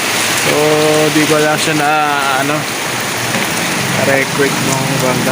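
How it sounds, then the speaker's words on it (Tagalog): Heavy rain pours steadily and loud on a dripping roof in a dim sleeping area, a constant hiss, while a person speaks over it. "Ganda ng buhos ng ulan guys."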